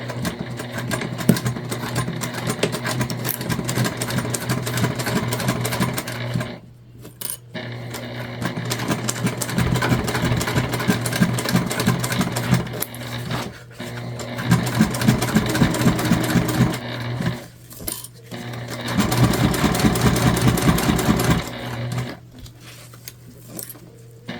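A sewing machine stitches a seam on a tote bag made from a beginner pattern, running in several steady bursts with brief pauses between, close and fairly loud, with no talking.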